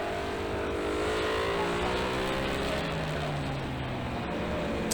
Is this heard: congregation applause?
no